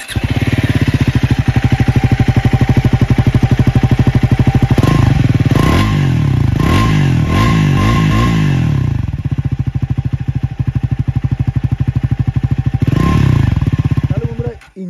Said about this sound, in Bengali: ইঞ্জিনের এক্সজস্টের সাউন্ডটা তোমরা শুনতে পেলে।